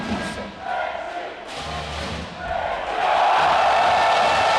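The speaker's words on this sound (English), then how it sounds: "The crowd love it." A crowd cheering at a triples final of the Futnet World Championships, a broad roar of an indoor arena crowd that swells louder and stays loud near the end, with a commentator's voice running over it.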